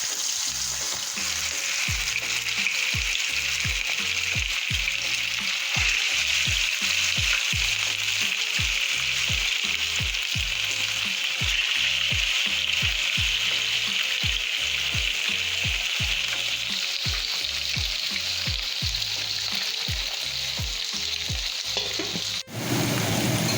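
Fish sizzles steadily as it fries in a pot of hot oil for coconut milk curry, a loud continuous crackle with repeated rhythmic stirring or scraping knocks throughout, close up and with no talking.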